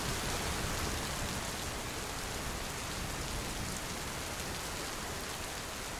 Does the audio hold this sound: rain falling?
yes